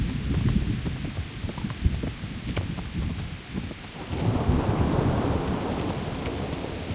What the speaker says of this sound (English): Oh, it's thunderstorms.